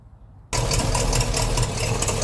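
Old Chevy 350 V8 catches abruptly after a quiet moment and settles into a loud, rumbling idle with a slightly uneven, knocking edge, close by.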